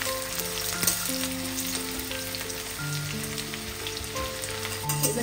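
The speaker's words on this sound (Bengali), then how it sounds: "হয়ে গেছে, এবার আমি পেঁয়াজটা দিয়ে দিচ্ছি।" Sliced onion frying in hot oil with whole cardamom, cinnamon and cloves on a lowered gas flame for a shim and beet dish, giving a steady close sizzle and crackle with no voices.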